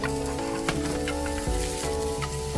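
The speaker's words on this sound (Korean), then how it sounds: "데쳐둔 도라지채도 볶아줍니다." Blanched bellflower root strips stir-fried in a pan for japchae, a dense, even sizzle with scattered crackles and light stirring taps, close and continuous.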